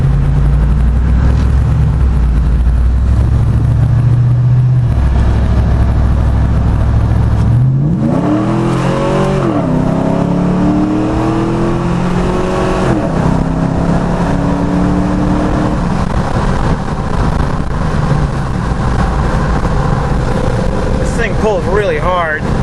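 A Jeep JK with a stock L92 6.2 V8 and 6L80 transmission pulls hard onto a freeway, the engine rising loudly through the gears in a close, sustained roar while people talk over it.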